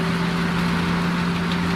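An M35 truck in the game Decimation, its engine running at a steady low idle, a constant even drone with a strong hum, close and unchanging, with no talk.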